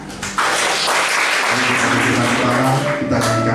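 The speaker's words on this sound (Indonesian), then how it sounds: "Amin. Amin. Tepuk tangan." Congregation applause during an evening prayer service, a dense burst of clapping rising abruptly and holding steady, with sustained tones and voices mixed underneath.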